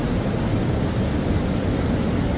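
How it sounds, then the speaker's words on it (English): Rushing water of a river flowing close by on a chilly day beside an old corn mill, a steady broadband wash holding level throughout with no voices. "Can you hear that river?"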